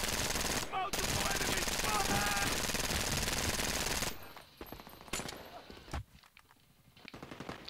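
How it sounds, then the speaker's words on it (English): Heavy automatic gunfire in the shooter game Brink, a loud continuous burst for about four seconds, then scattered shots and fainter firing with some voice chatter in the background. "There were so many rounds in this gun all at once."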